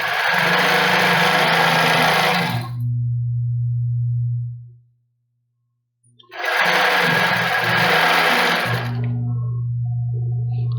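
Sewing machine stitching a stretched lace bra band, two loud bursts of rapid motor whirring, each trailing into a low steady hum, with a silent gap between them.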